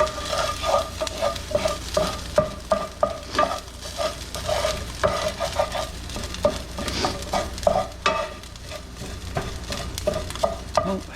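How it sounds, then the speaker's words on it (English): Plant-based vegan sausage browning in a hot pan for a sweet potato hash, steady sizzle punctuated by repeated scraping and stirring strokes from a utensil, close up. "Scrape this sausage up. It's getting nice and brown there on the bottom"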